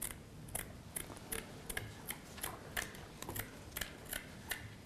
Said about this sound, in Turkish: makasımızı yine kullanarak